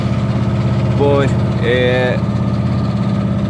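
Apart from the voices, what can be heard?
sailboat engine running at half throttle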